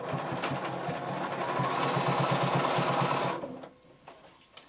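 A sewing machine runs a U-shaped seam on a workout top, a close, rapid rhythmic hum that continues for about three seconds and then stops, leaving faint handling clicks.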